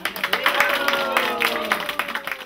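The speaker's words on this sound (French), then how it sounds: "Messieurs, mesdames, applaudissez" A group in a library claps rhythmically for a couple of seconds while voices sound over the clapping.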